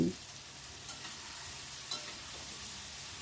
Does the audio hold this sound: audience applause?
no